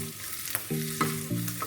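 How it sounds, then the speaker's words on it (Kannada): Ginger, green chili and kasuri methi sizzle in hot ghee for dhaba-style chole, a steady close frying hiss with a few light stirring scrapes and a faint hum underneath, with no voices. "1 ನಿಮಿಷ ಫ್ರೈ ಮಾಡಿಕೊಂಡ್ರೆ ಸಾಕು."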